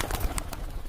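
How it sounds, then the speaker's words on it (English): A pigeon calls in a brief burst over a dense, noisy background, with a few short sharp accents standing out, no voices heard. "Pigeon."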